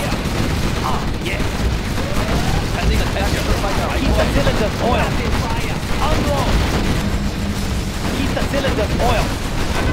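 Gatling cannon fire in Command & Conquer Generals Zero Hour, a China versus USA battle, rattling on steadily for ten seconds amid dense battle noise, with game voice lines speaking over it.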